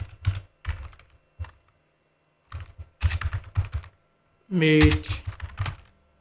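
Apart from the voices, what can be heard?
typing a title on a computer keyboard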